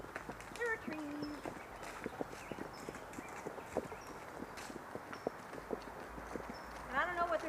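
Horses walk along a wooded trail, their hooves clip-clopping in an uneven steady rhythm at close range, with a few birds chirping and other faint sounds in the background.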